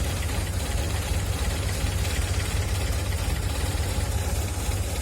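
A Honda Civic (Grand Civic / Civic LX) petrol engine idles steadily at close range in a home garage, a continuous low rumble with even vibration and no talk over it.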